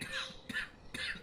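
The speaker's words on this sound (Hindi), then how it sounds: "खांसते हुए उनके सामने आकर खड़े हो जाते हैं" A man coughs three times in quick succession, short rough bursts at an even pace, fairly quiet.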